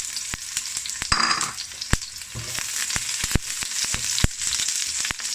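Ginger and red onion sautéing in hot oil, a bright continuous sizzle with a louder crackling burst early on and sharp spatula taps against the pan, close and without voices.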